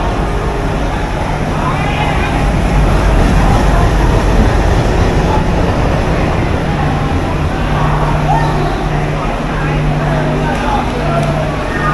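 Howrah Katihar Weekly Express being shunted at a station platform, a steady loud rumble of train and platform noise with a low engine hum and crowd chatter throughout.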